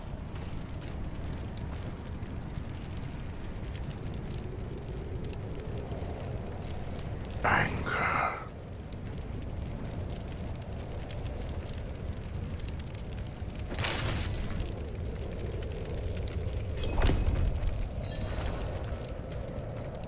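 Cedar wood crackles and flares in a brazier in Diablo IV, with a steady low fire roar and a few sharp bursts while a character speaks over it.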